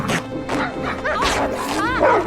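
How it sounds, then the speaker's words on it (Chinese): Several dogs barking outside a house at night, a run of loud yelping barks and yips close by, layered under a narrating voice in a dramatic film scene. "她听闻屋外传来阵阵狗叫"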